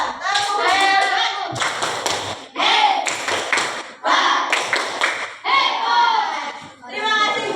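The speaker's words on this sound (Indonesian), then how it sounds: "Tepuk hebat buat Nila" Elementary school class claps in a rhythmic patterned cheer for a classmate, loud, close and sharp, in several bursts broken by short pauses, with children's voices chanting along.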